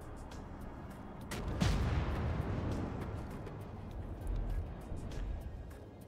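Naval gunfire around a Tier V American battleship, USS Texas, in World of Warships, with a heavy boom followed by rumbling and scattered distant shots over a continuous low background.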